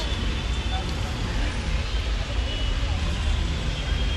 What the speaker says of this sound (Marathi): ट्रॅफिक पण खूप आहे आज.